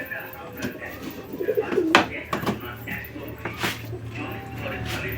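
Pet pigeons eating grit, with a short cooing call near the middle and soft pecking and shuffling around it, while a person speaks over much of it.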